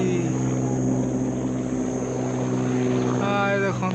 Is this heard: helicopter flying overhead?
yes